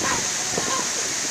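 Mother Falls waterfall beside a beach, a constant loud rushing roar of falling water filling the brief moment with no letup.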